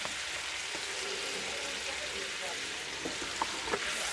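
Sliced onions frying with smoked brats and cabbage in a homestead kitchen, an even hissing sizzle throughout with a couple of faint clinks of a utensil near the end.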